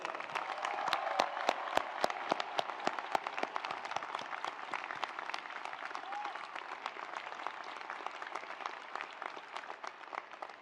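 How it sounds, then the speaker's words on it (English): An audience at a graduation ceremony applauds, a dense, even wash of many hands clapping that fades slightly toward the end, with no speech over it. "Let's give them another round of applause."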